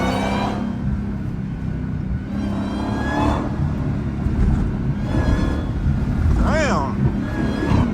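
A Dodge Hellcat set in trap mode accelerates hard on a city street at night, the engine revving up in several rising pulls with a strong rumble while someone talks over it.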